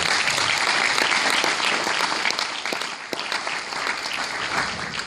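Dinner guests at a scholarship dinner give a round of applause, dense and fairly loud clapping sustained throughout with no talking.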